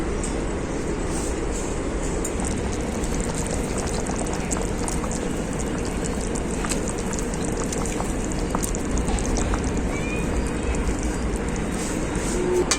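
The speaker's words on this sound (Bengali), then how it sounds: "ঝোল খুব ভালোভাবে ফুটে গেছে" Fish curry broth made with kohlrabi and rohu boils steadily in a pot, a continuous dense bubbling and hissing that holds at an even, close level throughout with no talk.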